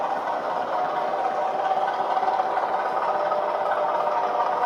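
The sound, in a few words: Bachmann Kernow Class 205 Thumper model train engine revving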